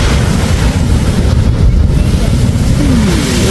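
Big sea waves crash and surge at Mughsail Beach in Salalah, a constant loud roar of surf blended with heavy wind buffeting the microphone, with no talk.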